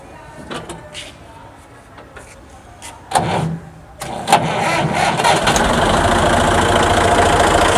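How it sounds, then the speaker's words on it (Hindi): A 1972 Massey Ferguson tractor, an English-built model, cranks and its engine catches about three seconds in, settling into a steady, loud idle that fills the rest of the clip after a few earlier clicks and knocks. "ये ट्रैक्टर स्टार्ट हो गया है और आप इसकी आवाज़ देखो, सुनो आवाज़ सुनो इसमें"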